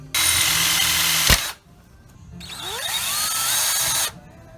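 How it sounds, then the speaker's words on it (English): A power drill whirs loudly in two bursts drilling holes for a speaker in a 1970 Chevelle, separated by a sharp click and a short pause, the second run rising slightly in pitch. "we got room to drill holes there"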